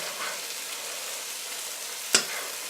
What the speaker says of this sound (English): be basting and grilling on this side for about 3 to 4 minutes